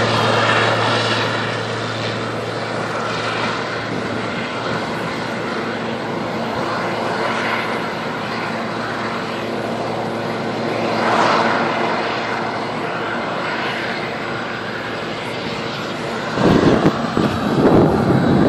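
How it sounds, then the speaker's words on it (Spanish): A jet aircraft idles and runs up on the ground at East Hampton Airport, a steady loud engine roar with gusts of wind buffeting the microphone near the end. "Ese jet va a salir ahorita."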